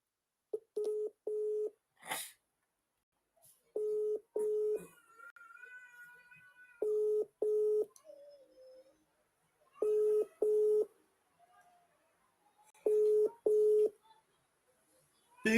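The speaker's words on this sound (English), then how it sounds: "Let me call the last caller again." A phone dials out to call back a listener during a live call-in broadcast, with repeated pairs and triplets of beeping tones separated by gaps, plus a brief ringing-tone stretch midway, clear and close.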